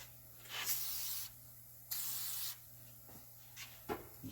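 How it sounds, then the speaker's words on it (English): Short hissing bursts of lubricant sprayed from an aerosol can onto the front brakes of a 1977 Toyota Celica, two longer sprays followed by a few brief puffs, close by with no talking. "Spray some lube on there."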